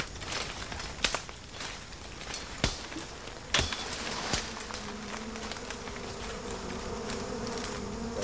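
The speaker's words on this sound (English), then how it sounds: "That pinging noise is the wasps exploding." Tropical wasps inside a nest being smoked out give off sharp, scattered pings and pops over a steady insect buzz, with a few loud cracks standing out close by.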